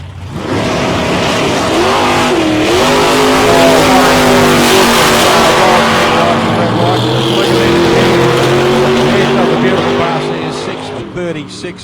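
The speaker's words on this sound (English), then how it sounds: "Jason out there in the little rock hard Gemini running up against Warren Bull. Now Warren in the 500 cubic inch Chevrolet Camaro" Drag race cars, a Gemini against a 500 cubic inch Chevrolet Camaro, roar loud and steady down the strip at the South Coast Nationals eliminations, with rising engine tones under continuous commentary.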